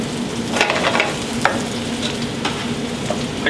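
Chicken frying in butter in a hot pan, with a steady close sizzle and brief scraping stirs throughout, no voices.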